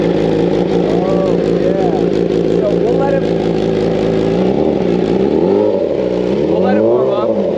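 Carbon-bodied BMW M1000RR superbike running close up, a loud steady idle with rising and falling revs and rough blips near the end, while a voice speaks briefly over it.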